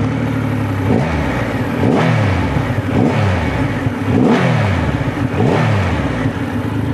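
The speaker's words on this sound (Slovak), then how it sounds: "Tri mohutné válce podo mnou a ideme si ich naštartovať." Triumph Rocket 3R motorcycle with a 2.5-litre three-cylinder petrol engine, running loud and close, revved in five or six sharp blips that rise and fall in pitch.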